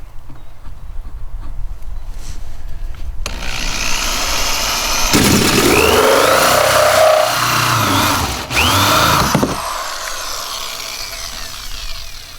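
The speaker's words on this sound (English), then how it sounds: "You do want to get the kind of hole cutter that has this drill bit in the middle." A power drill whines steadily as a hole cutter grinds through plastic, loud and close, running for several seconds before stopping.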